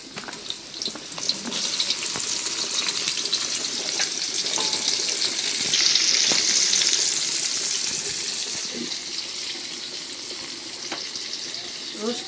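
Onions dropped into hot ghee and oil with cinnamon and three cardamom pods, a loud steady sizzle that swells as they hit the pan and hisses on for several seconds, with a faint voice underneath.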